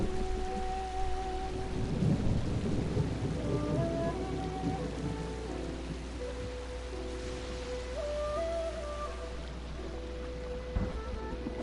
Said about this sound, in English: it's just a thunder strike